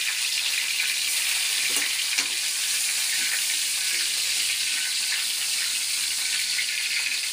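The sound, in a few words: garlic frying in a pan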